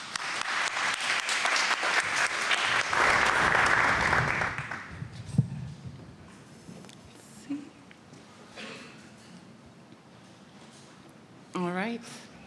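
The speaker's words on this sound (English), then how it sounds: "let's welcome the organizers on the stage with a round of applause" Audience at a predictive coding workshop applauds as the organizers come on stage, a loud burst of clapping that fades after about five seconds, followed by quieter room noise and a few brief sounds.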